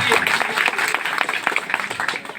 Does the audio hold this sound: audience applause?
yes